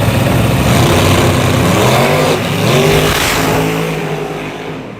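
Chevrolet Camaro accelerating hard in a street drag race, its loud engine roar climbing through rising revs and gear shifts before fading as the car pulls away.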